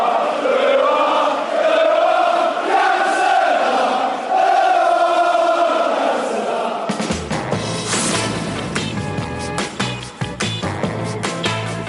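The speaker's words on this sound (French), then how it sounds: "la foule scandait « Où à Cantona ?»" A football crowd chants Cantona's name in a loud, sustained, sing-song unison. After about seven seconds it breaks into a rougher, noisier roar of many voices.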